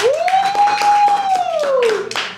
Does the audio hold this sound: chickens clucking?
no